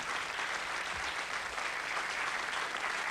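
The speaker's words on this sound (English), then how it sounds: "Give him another round of applause." Studio audience of a 1987 British TV quiz show applauds steadily and loudly, a dense continuous burst of clapping with no talk over it.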